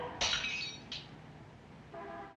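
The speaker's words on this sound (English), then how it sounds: "a scream and then a glass was smashed" Glass smashing in a scene from the 1954 film Rear Window: a loud crash with a bright, ringing burst near the start, a second brief impact shortly after, then a sustained tonal note before it cuts off.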